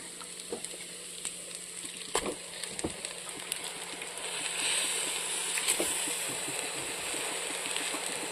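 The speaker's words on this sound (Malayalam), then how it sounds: "ഇനി നമുക്ക് ഇറച്ചി ഇട്ട് കൊടുക്കാം." Beef for curry fries in a pan with a steady sizzle that swells partway through, broken by scattered clicks and scrapes of stirring, close and fairly quiet, with no speech.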